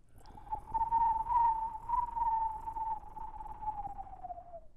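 A steady, wavering whistled trill at a single pitch holds for several seconds, like a screech owl's call, likely an imitation rather than a real owl.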